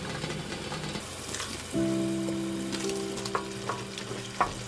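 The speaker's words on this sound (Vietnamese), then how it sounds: "Mình khuấy tan và mình cho vào từ từ." Tapioca starch slurry is stirred into simmering tofu and egg sauce, with a low steady sizzle and bubbling, a few light utensil clinks, and a sustained tonal hum partway through, close and without talk.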